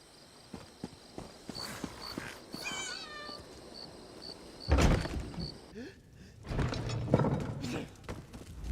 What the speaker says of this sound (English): Damnable cats!